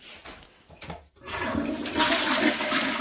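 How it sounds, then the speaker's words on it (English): A toilet flushes in a bathroom of a trashed house, starting with a quiet click and rustle, then a loud surging rush of water that holds close and steady to the end. "we have tons of water in a bathroom with a flushing toilet"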